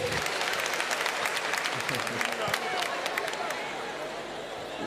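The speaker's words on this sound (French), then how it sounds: "Est-ce qu'on peut avoir des applaudissements, s'il vous plaît?" Audience applause at a French-language stage show, a dense wash of clapping with crowd chatter underneath that gradually eases off toward the end.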